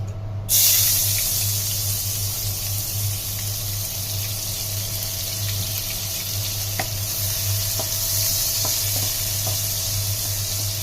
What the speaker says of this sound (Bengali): একই তেলে দিয়ে দিচ্ছি পেঁয়াজ।